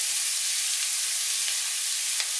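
Börek filling sizzling in a hot pan while being stirred, a dense, loud hiss of frying held steady over a couple of seconds, close up with no voices.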